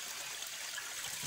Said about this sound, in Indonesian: Nah ini airnya deras banget.